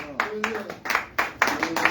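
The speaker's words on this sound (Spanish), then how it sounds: "Palmas a Cristo, hermano." A church congregation claps in a quick, loud rhythmic burst during a Spanish-language Pentecostal service, with voices mixed in.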